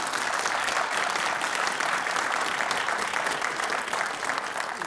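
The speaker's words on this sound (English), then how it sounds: "a round of applause for all those 8s" A studio audience on the Countdown game show claps in a steady, even round of applause for about five seconds, moderately loud and with no talk over it.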